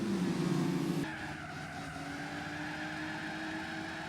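Race car engines in Gran Turismo 4 whine loudly, with a 2-litre Renault Megane in the field and tires squealing as the cars corner, a brief roar giving way to a steady hum.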